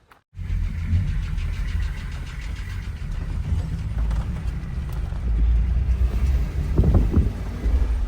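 A car drives along a road toward a Dorze village in Ethiopia, with a steady low engine and road rumble, occasional wind buffeting and a few bumps, heard from inside the vehicle.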